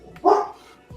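A dog gives a single short, sharp bark at close range, with a faint shuffle just after.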